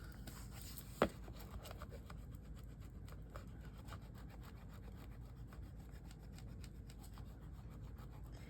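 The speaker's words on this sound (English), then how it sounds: "So now I'm going to burnish that down" Paper is burnished down onto a glued album page, giving a steady, soft, close rubbing scrape throughout, with one sharp tap near the start.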